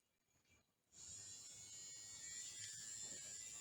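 A sonic electric toothbrush switches on after a brief quiet moment and vibrates with a steady, high, thin buzzing whine that holds evenly and close for the rest of the clip, faint overall.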